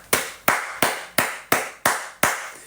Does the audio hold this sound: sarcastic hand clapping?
yes